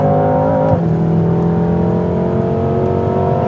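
A BMW M6 Coupe chases a 2013 BMW M5 around a race track, one engine droning loud and steady at high revs with a brief gear-change dip near the start, close and continuous with no talk.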